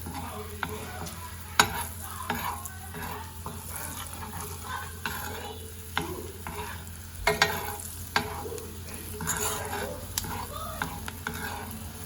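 Red chilies sizzle and crackle steadily in hot oil in a pan while being prepared for dal makhni, with sporadic sharp pops and the scrape of stirring throughout, close and continuous with no talk.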